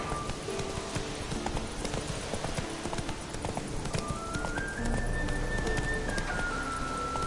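Roach, the horse in Witcher 3, gallops in a quick steady clip-clop of hooves with a brief whinny-like tone rising near the end.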